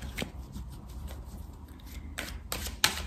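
Oracle cards from a mirror oracle deck are shuffled for a reading, with quiet, close riffling and soft taps in a few short bursts.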